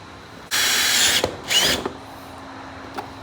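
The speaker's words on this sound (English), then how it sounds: "we're gonna drill this for a push pin while holding this where we want it" A power drill bores a push-pin hole in a fender flare on an original 2012-2017 Can-Am Maverick. Two short, close, loud whirring bursts are separated by a brief pause, then a faint click follows.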